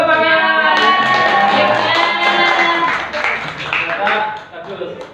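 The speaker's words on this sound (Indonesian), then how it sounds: "Nah, tepuk tangan." An audience in a classroom setting claps together for a few seconds while voices talk over the clapping. The applause fades slightly toward the end.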